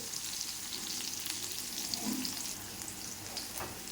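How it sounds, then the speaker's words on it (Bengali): Bitter gourd frying in hot oil until browned, a steady close hiss and crackle of sizzling oil throughout with a faint stir or two, no voices. "উচ্ছেটাকে ভালো করে লাল লাল করে ভেজে নিতে হবে"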